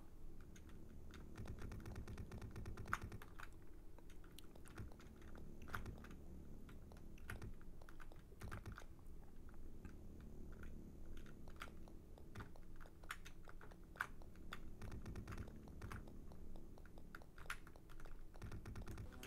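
Computer keyboard keys clattering steadily while someone plays D/Generation, the AGA and CD32 versions, on a computer; dense, fast tapping and occasional louder key hits over a low background hum, with no talking.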